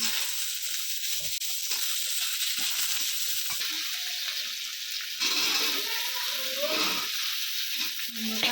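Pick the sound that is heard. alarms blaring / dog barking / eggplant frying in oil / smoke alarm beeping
eggplant frying in oil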